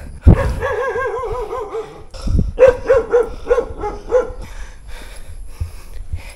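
A dog barks and yips several times in a quick series at moderate distance, with a whimpering tone, followed by quieter outdoor sounds.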